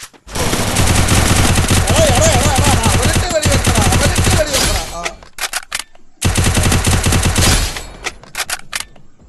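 Dense automatic gunfire from the Free Fire mobile battle game rattles loudly and almost continuously, breaking off briefly around the midpoint before another long burst, then trailing off into scattered shots.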